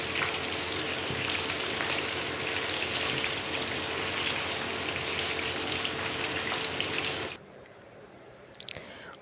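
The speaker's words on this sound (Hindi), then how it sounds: "ये भी मैंने ऑयल में डाल दिए ताकि ये भी अच्छी तरह से फ्राई हो जाए" Eggplant, garlic cloves and deseeded green chilies frying in oil, a loud steady crackling sizzle close by that cuts off abruptly near the end, leaving faint clinks.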